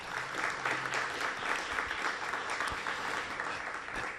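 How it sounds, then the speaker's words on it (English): Audience at a design week artist talk claps steadily, a moderate, even wash of applause from a room crowd with no speech over it. "Please give them a round of applause."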